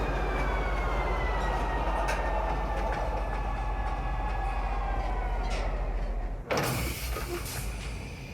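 A train pulls into Central Station in a video game, a loud continuous rumble and mechanical whine that cuts off abruptly near the end as the carriage comes to a stop.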